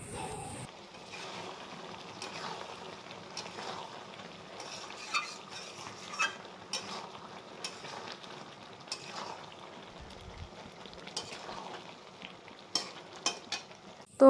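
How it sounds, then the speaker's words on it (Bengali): Meat is being stir-fried in a pan on a home stove, near the end of the slow browning stage. A utensil scrapes and clatters in quick, uneven strokes over a constant soft sizzle, close up and without talk. "তো প্রায় আমার মাংস রান্না হয়ে গেল, তো একটু এখন কষানো প্রায় শেষের দিকে।"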